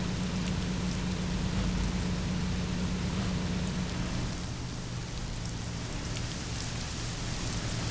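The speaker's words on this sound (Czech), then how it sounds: "venku tady prší už celou noc, tady prší" Steady rain pours in the Mafia video game world, a dense, even hiss of drops on surfaces lasting throughout, with a low constant hum beneath and no voices.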